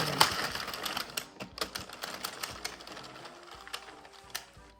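A hand-cranked knitting machine is turned to cast off the knitting, giving a quiet, close run of rapid mechanical clicks and ratcheting ticks.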